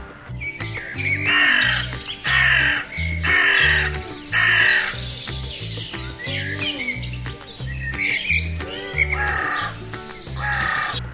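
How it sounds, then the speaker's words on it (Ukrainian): Wintering crows in a winter forest cawing loudly and repeatedly, harsh overlapping calls close by, with smaller birds chirping in between. "Так це зимуючі птахи."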